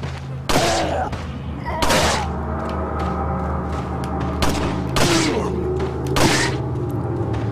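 Gunfire in the video game Resident Evil 4: four loud, sharp shots spaced about a second and a half apart, each with a booming tail, over a steady low game-score hum, with no one talking.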